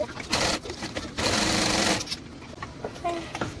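Sewing machine stitching fabric pieces sewn right sides together, running in two loud close bursts with a short pause between, then quieter handling noises.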